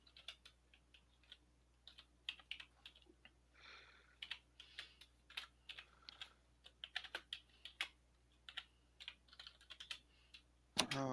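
Quiet, close typing on a computer keyboard: irregular bursts of light key clicks with short pauses, continuing steadily over a faint background hum, ending with a louder knock.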